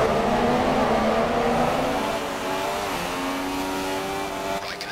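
A Formula 1 car in the racing game F1 2016 at the Brazilian Grand Prix screams past, its high engine whine sliding down in pitch as it moves away, loud and close, with no talk over it.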